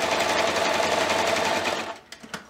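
Electric sewing machine stitching felt pineapple shapes for a summer banner, a fast steady whirring run that slows and stops near the end, followed by a few small clicks of the machine.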